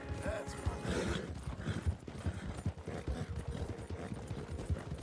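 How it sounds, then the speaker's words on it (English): Hooves of a White Arabian horse gallop during a video game time trial, a fast steady clip-clop rhythm heard fairly close and at moderate level, with a brief whinny near the start. "That's John riding that White Arabian right now."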